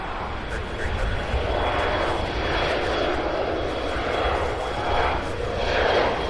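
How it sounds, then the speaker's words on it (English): United Airlines jet bound for Newark at Cincinnati/Northern Kentucky airport (CVG), a steady, moderately loud engine roar with gentle surges, heard alone throughout. "This is United Airlines heading to Newark"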